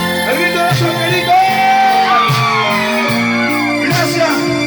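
A singer gives a loud shout at a live concert, her voice ringing out over sustained band music with crowd energy in a full, continuous mix.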